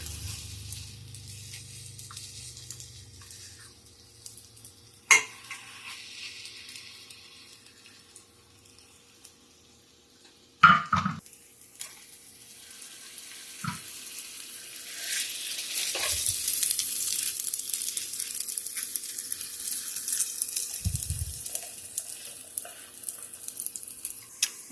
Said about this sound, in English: Now I'm just going to let these cook a couple minutes per side